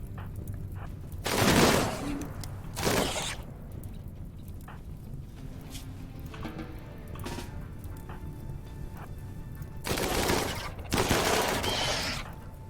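Bursts of turret gunfire in the RimWorld video game: a few loud broadband volleys early and late, separated by quieter crackling game ambience, with no talk over them.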